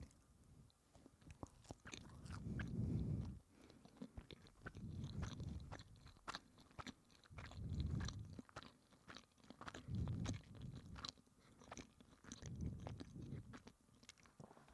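Someone chews a sakura rice cake close to the ear, with soft rhythmic crunching and squishy bites in repeated bursts and no talking.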